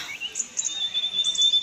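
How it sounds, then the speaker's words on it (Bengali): Birds chirping in the Darjeeling hills, with a steady high insect trill like crickets running beneath scattered bird calls, all faint and distant in a quiet garden setting. "এখানে পাখিদের প্রচণ্ড আওয়াজ শোনা যাচ্ছে"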